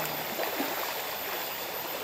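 Water of a stream flows along a riverbank at the start of the rainy season, a steady broadband rush with faint trickles, continuous and close, with no voices.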